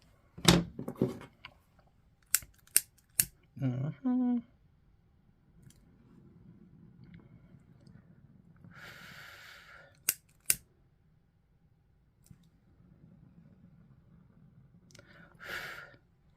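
Scissors trimming yarn ends on a finger-knit garland: a few crisp close snips and clicks at the start, then quiet handling rustle with a couple more isolated clicks, no speech.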